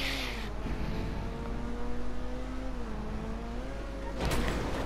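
A Cheval Taipan sports car speeds along at about 130–140 km/h in GTA 5, its engine droning in a steady, slightly wavering tone, with a burst of harsher noise near the end.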